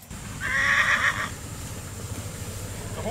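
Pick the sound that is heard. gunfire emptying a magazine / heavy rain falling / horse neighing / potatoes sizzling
horse neighing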